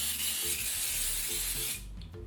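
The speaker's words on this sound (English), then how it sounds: "this is the best spray flour and oil that I've ever found and I've ever used" A flour and oil baking spray hisses in one continuous loud blast for nearly two seconds, coating a mini donut pan, then cuts off abruptly.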